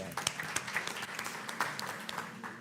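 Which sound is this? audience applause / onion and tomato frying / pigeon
audience applause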